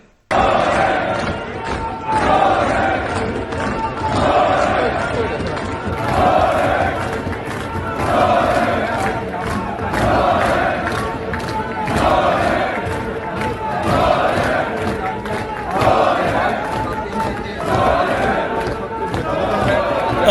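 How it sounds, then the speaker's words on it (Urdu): A crowd inside a legislative assembly chants political slogans in a repeating rhythm, loud massed voices rising and falling in regular waves over a continuous din of shouting. "پوری اسمبلی مریم کے پاپا چور ہیں، مریم کے پاپا چور ہیں کہ نعروں سے باقاعدہ گونجتی رہی"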